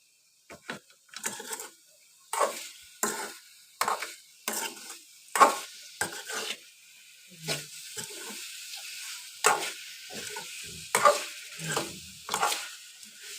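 Spicy potato fry cooking in a pan: a run of irregular scraping, clattering stirs over a soft sizzle, loud and close with short pauses between strokes, no voices.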